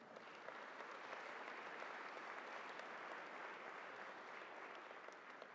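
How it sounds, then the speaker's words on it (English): A convocation audience at Cal Poly applauds in a steady, dense wash of clapping that stays faint and distant throughout, with no voices rising above it. "I think that deserves a big round of applause."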